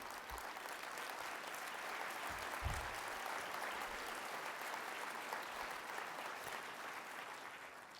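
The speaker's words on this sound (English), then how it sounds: "A round of applause for the survivors." Sustained applause from a large gathered audience honoring Holocaust survivors at an evening museum gala, a steady dense wash of clapping at moderate distance throughout, with no voices over it.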